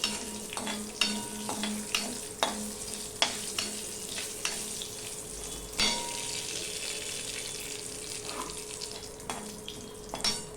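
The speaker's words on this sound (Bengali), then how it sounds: "এবার সেই তেলে আমি শুকনো লঙ্কা ফোড়নে দিয়ে দিলাম আর দিয়ে দিলাম একটা তেজপাতা ছিঁড়ে" Dried red chillies and a torn bay leaf drop into hot oil for tempering and sizzle at a moderate level, with a spoon clicking against the pan at a fairly regular pace throughout.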